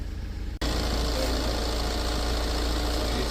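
A Tata Safari engine starts after an overhaul, catching abruptly after a brief lull and settling into a loud, steady, rumbling idle close to the listener, with no talking.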